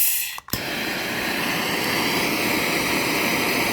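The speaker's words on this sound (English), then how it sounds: "aim the heat and the torch into the center, around where the porcelain should be." A blowtorch heats a spark plug from a misfiring combustion engine, igniting with a brief pop and then roaring as a loud, steady hissing rush.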